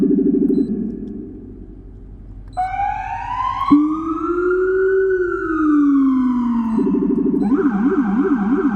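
A police siren wails up and down, then shifts to a rapid yelp, loud and close with no talking.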